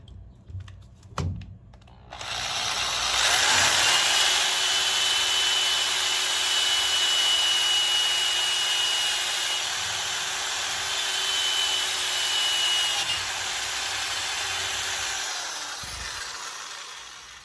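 A power drill bores into a metal firearm part lubricated with WD-40, a steady whining grind that starts after a few handling knocks and holds for about fourteen seconds before stopping.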